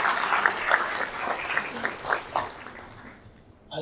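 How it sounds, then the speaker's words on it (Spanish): Lecture audience applause for a doctor, a scattered patter of clapping at moderate distance with a few sharper claps, thinning toward the end. "les pediría también un caluroso aplauso para el doctor Joel Pérez Nieto"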